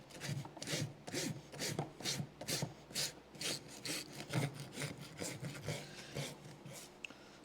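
A farrier's rasp works a young horse's hoof with steady, rhythmic back-and-forth scraping strokes, fairly quiet and close, with no talk.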